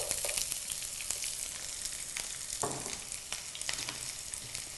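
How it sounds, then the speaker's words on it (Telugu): Finely chopped onions frying in oil with dried red chillies and curry leaves, a steady close hiss of sizzling with scattered pops and faint stirring scrapes, quiet and without talk. "ఆనియన్స్ని కూడా ఆయిల్లో వేగనివ్వాలి."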